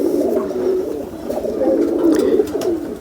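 Pigeons coo close by in soft, repeated throaty phrases, with faint background noise and no talking.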